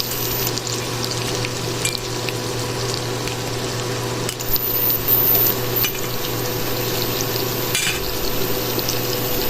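Pork frying in a pan after sautéed aromatics, a loud continuous sizzle with a steady hum beneath and brief stirring knocks now and then.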